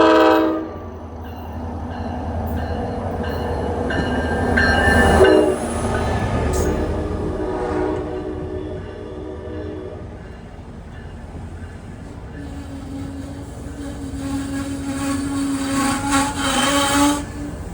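A New Jersey Transit train led by an EMD PL42 diesel locomotive rumbles past close by, sounding its horn midway, with wheels clattering and rails squealing as the cars roll through. A voice speaks briefly under the noise.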